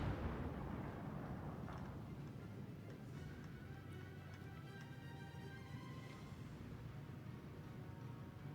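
Warship guns firing in a World of Warships tournament match, a dense, continuous rumble of blasts with a few sharper booms rising out of the steady roar.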